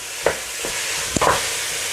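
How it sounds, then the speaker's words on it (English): Minced beef sizzles steadily in a hot pan for a cabbage and meat stew, a loud continuous fry broken by a few sharp scrapes as it is stirred. "I am just trying to cook the minced beef nicely"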